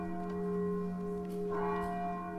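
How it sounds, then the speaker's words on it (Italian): Church bell of Longarone ringing alone, a sustained resonant toll with steady humming overtones and a second swell partway through, moderately distant and without voices. "Campana di Longarone, la campana che suona ogni anno alle"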